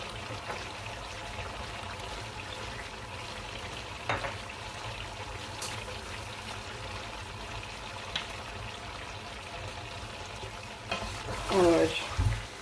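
Chicken fries in oil with added spices for a chicken korma, a steady low sizzle running throughout with occasional stirring clatters and a louder burst near the end.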